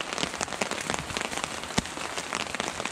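Steady rain falls on a snowy forest trail during a day hike in warming afternoon weather, a dense close patter of drops with occasional louder splats, no talking.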